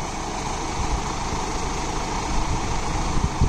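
A tractor engine running steadily at 1600 rpm in fourth creeper gear, a continuous low, rumbling drone heard close up with slight fluctuations and no talk.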